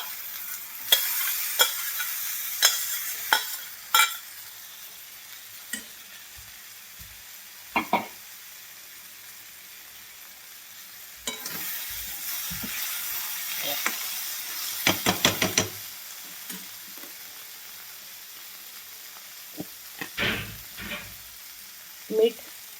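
Cooked mung beans stir-fried in a pan for Maharashtrian dhapate thalipeeth, with a steady close sizzle and intermittent spoon knocks and scrapes against the pan, alone without talk.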